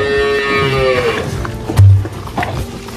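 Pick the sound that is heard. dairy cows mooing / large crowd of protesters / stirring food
dairy cows mooing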